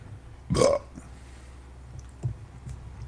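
A single short, loud burp rises over quiet room noise, followed a moment later by a faint second sound.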